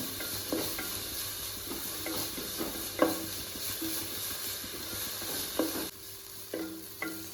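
Onions frying in a pan for kothu porotta, a steady close sizzle with frequent scraping and stirring strokes throughout, no voices.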